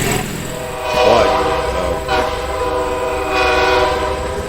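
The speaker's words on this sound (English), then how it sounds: "I think a train's coming." A train horn sounds in long, loud blasts over the steady rumble of a passing train, heard outdoors during a live model-train talk on July 4, with faint voices in the background.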